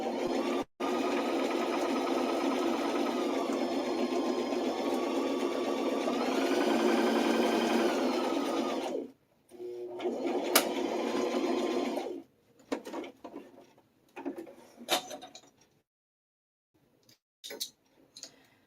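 A sewing machine stitches fabric for a bunny backpack, running in a long steady whir, briefly pausing, then resuming in a shorter burst before a few scattered clicks and handling noises.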